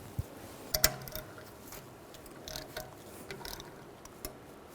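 A ratchet tightens a brake caliper screw during rear brake work on a 2009-2010 BMW 535i xDrive. A few faint clicks and short mechanical rattles are scattered over a quiet background.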